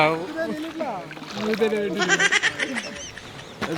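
Oars splash and slosh rhythmically in the water as a small boat is rowed on a village lake at night, with people talking over the strokes.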